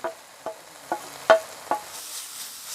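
Spoon stirring spice masala (red chili, turmeric, coriander and cumin powders) frying in oil for keema anda curry, with five or six distinct scraping strokes at a steady pace over a soft background sizzle.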